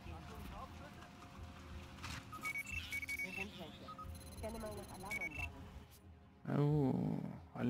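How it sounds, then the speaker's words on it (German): Alarm systems ring in Battlefield Hardline as repeated electronic beeps and tones over steady game ambience, with someone talking loudly near the end. "Oh, Alarmanlagen."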